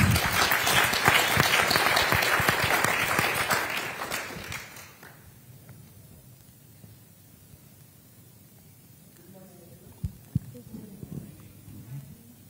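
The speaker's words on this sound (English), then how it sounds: "A round of applause for her." An audience at a public leadership forum launch in Kenya applauds in a dense, steady burst for about five seconds, then fades out to quiet room tone with a few scattered knocks.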